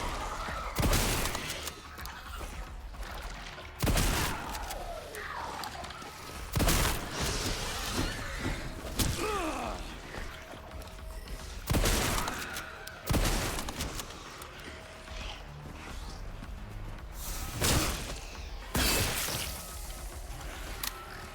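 Shotgun blasts in the Resident Evil Requiem video game, about eight loud, sharp broadband bursts fired at irregular intervals of two to three seconds over a continuous game ambience, with no talking.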